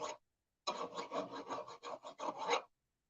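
A metal file rasps a burr off a new tractor shaft in quick back-and-forth strokes, about a dozen close, dry scrapes in a steady rhythm after a brief pause, with no talking.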